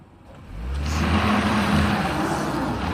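A Cadillac XTS climbing a steep slope, its engine revving up from quiet to a sustained loud drone as it strains, heard close by.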